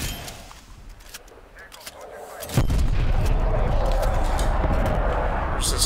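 In Call of Duty: Black Ops Cold War gameplay, a sudden loud burst of gunfire erupts and turns into sustained dense shooting, preceded by quieter ambient game noise.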